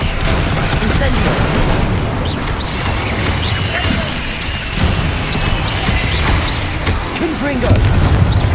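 Incendio fire spell being cast in Hogwarts Legacy, a dense, continuous burst of whooshing flame and booming impacts layered with game effects, loud and sustained throughout.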